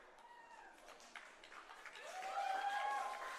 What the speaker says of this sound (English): Good round of applause from the crowd.